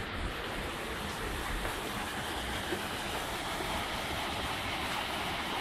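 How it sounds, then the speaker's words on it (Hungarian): Steady broadband rushing of water, continuous and fairly loud throughout, like water pouring or splashing over a weir at the edge of the Klostersee lake in Pfullingen, Germany. "a víz végig csobog."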